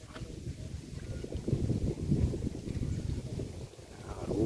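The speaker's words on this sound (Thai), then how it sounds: "ลมแรงครับวันนี้พี่น้อง" Strong outdoor wind gusts at a cast-net fishing gathering produce a continuous low, rumbling buffeting that rises and falls in waves throughout, with no clear voices.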